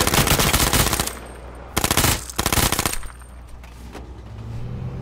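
Rapid automatic gunfire in the battle royale game H1Z1, loud bursts of close machine-gun fire in three separate volleys with short pauses, followed by quieter background game noise.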